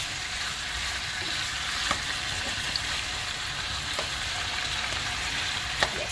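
Oxtail browning in hot oil with dark sugar for Jamaican oxtail, a steady, dense sizzle and fry throughout with a few faint clicks of a spoon against the pot, no talking.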